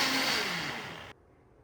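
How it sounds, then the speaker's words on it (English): Blender pureeing roasted peppers, garlic, tomatillos and cilantro with salt into a smooth sauce, a close, steady motor whir whose pitch slides downward, then cuts off abruptly, leaving a quiet room tone. "Blend that until smooth and taste for seasoning."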